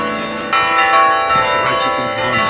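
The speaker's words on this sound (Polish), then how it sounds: "Słuchajcie tych dzwonów." Church bells of the Ta' Pinu Basilica on Gozo, Malta ring loudly and continuously, their rich overlapping tones sustained and reverberant throughout, with no voices.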